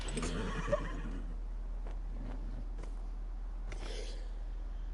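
A horse in the video game Dragon Age Inquisition lets out a loud, close whinny at the start, followed by softer snorting and hoof sounds over a steady low background hum.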